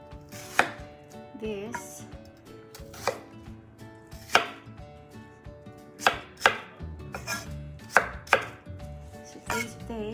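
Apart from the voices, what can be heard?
chopping onions into big chunks with a knife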